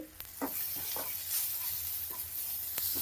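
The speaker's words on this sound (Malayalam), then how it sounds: "മസാലയും ഇടുന്നുണ്ട് ഇത് ഇളക്കി വെച്ചിട്ട്" Masala stirred in a frying pan, with a few scraping spoon strokes over a steady close sizzle; no one speaks.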